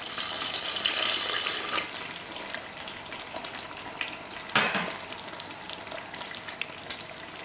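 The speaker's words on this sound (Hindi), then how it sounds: "मैं इसमें हल्का सा पानी और डाल रहा हूँ।" Water is poured into mutton masala frying in a pan, bringing a soft, close sizzle and splash with scattered crackles and one brief louder burst midway.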